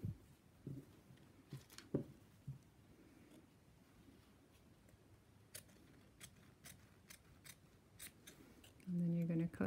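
Scissors snipping into fabric while cutting a zip pocket opening, heard as faint, quiet clicks and short cuts scattered through the clip with little else around them.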